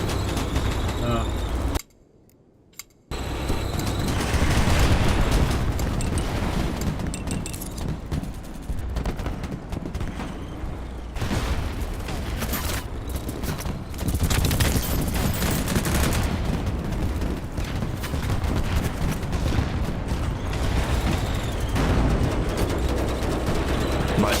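Rapid automatic gunfire in the video game Battlebits, dense and loud bursts running almost continuously with one brief silent gap near the start.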